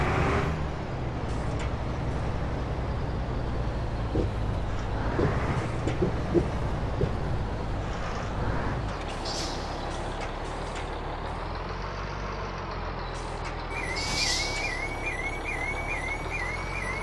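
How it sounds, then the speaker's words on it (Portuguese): A heavy truck in Euro Truck Simulator 2 rumbles as it pulls up and stops, with sharp hissing air brake releases and a run of electronic beeps near the end over a steady engine drone. "Vamos parar o caminhão ali no hotel."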